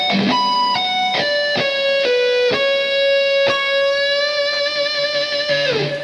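Distorted electric guitar playing a lead line from the first solo of a song: sustained notes picked one after another, bent up in pitch and finished with a wavering vibrato, loud and alone.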